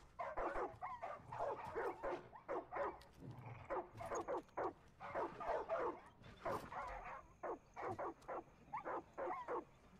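Dogs bark in rapid, repeated bursts in the video game Far Cry 5, close and fairly steady throughout, with some yips and whimpers mixed in.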